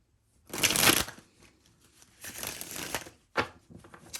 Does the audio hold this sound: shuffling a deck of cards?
yes